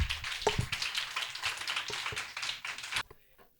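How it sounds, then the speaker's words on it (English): Audience applause at a talk, a few seconds of steady crowd clapping that cuts off abruptly into near silence. "Please give him a big round of applause."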